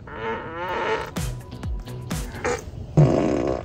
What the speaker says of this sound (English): You can make the whole car fart.